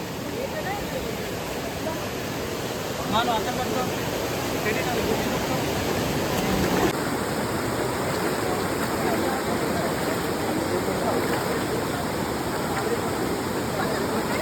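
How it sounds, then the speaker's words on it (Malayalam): A shallow forest river with little water, crossed on the trek to Kalu waterfall, rushes and gurgles over stones in a steady, even wash of flowing water that carries on without break. "ഇതാണ് 2ാമത്തെ പുഴ പറഞ്ഞത്."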